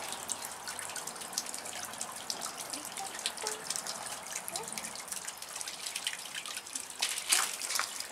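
Water runs and sprays steadily in a homemade bird shower in Thailand, a continuous close splashing trickle with dripping, fairly soft throughout and briefly louder near the end.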